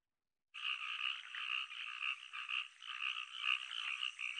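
Cartoon frog croaking in a Thai children's song about a little frog: a steady, bright run of rapid croaks starts after a short silence and continues evenly to the end, with no voices.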